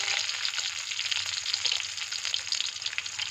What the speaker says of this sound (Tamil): எண்ணெய் ஊற்றி கடுகு போட்டு சின்ன வெங்காயம் சேர்த்துருக்காங்க